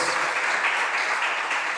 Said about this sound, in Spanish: Entonces dése un fuerte aplauso a usted